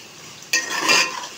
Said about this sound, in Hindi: यहाँ पे मैं भून रही हूँ मटर